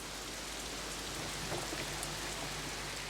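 Torrential rain pouring down outside a car park, a dense constant roar of heavy drops with no pauses and no voices.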